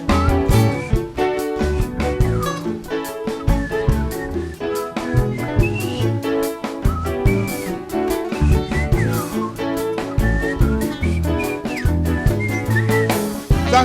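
Whistling rises and glides above a lively calypso performance, carrying a melody over the full band accompaniment throughout.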